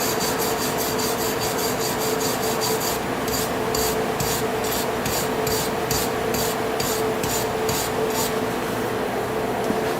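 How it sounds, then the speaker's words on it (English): A stainless steel wire brush scrubs metal in rapid back-and-forth strokes, a close, harsh rasping that turns into an even, rhythmic scratching partway through and continues steadily. "that's a stainless steel brush just to clean it up"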